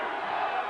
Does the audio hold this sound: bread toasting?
no